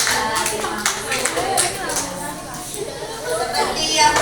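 Children in a classroom clap together for correct answers, a burst of quick, uneven hand claps with young voices chattering underneath, fading briefly before picking up again.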